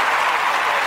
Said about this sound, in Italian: applausone per Francesco